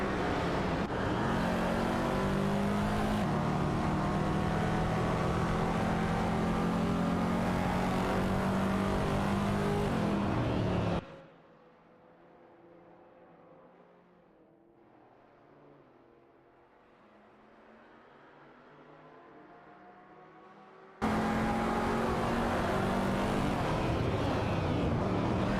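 Race cars in a racing video game roar off the start line, engines loud and revving close up, then the sound drops to a faint hum for about ten seconds before the full engine roar returns.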